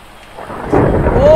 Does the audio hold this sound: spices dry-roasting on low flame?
no